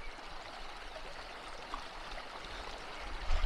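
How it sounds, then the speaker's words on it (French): A small mountain river in the Mercantour of the Alpes-Maritimes flows with a steady, close rushing and burbling wash, continuous and moderately loud, with a brief bump near the end. "Écoutez-moi ce bruit de la petite rivière qui coule."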